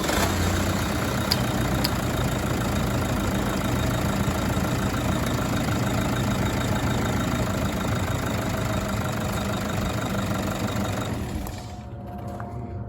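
A car engine idles steadily while its cooling system is being bled, a continuous mid-low running hum with faint rhythmic knocking from worn bearings, then the sound drops away near the end as the engine is switched off.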